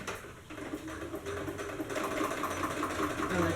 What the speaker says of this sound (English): So what I'm going to do is just sew that right now. Do a straight stitch across the crisscross.